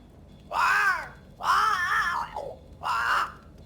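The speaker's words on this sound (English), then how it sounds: "It's Ceridian, by way of the invisible, speaking through the crow." A crow caws three times, harsh drawn-out calls with short gaps between them, heard near and loud in the game Banishers: Ghosts of New Eden.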